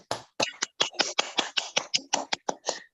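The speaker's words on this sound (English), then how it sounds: "let's give our biggest applause for Adian" A quick run of about a dozen sharp, separate claps sounds close and fairly quiet, like one person clapping for a participant at an online teacher club session.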